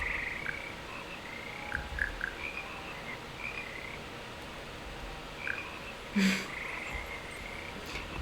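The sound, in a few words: frog choir croaking in video game Hogwarts Legacy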